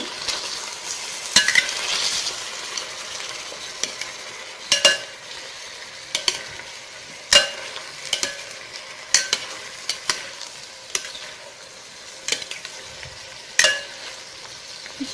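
Chicken afritada being stirred in a frying pan, a soft sizzle broken by repeated scraping and clacking strokes of the spoon every second or two, with no talking.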